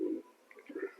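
Pigeons coo softly in a loft, a few low burbling calls over about a second with brief pauses between them.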